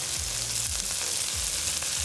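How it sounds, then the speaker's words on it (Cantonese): Bell peppers and onion stir-fried over high heat in a wok, producing a steady, close, loud sizzle with a few scraping stirs, and no talking. "we'll stir fry just the peppers and onion for about 20 to 30 seconds"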